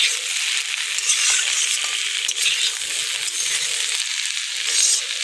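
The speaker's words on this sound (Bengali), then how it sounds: "পেঁয়াজ কড়ি দিয়ে আলু ভাজা।" Potatoes fry with onion sprouts in a pan, a dense continuous sizzle with faint stirring scrapes, close and loud, with no talking.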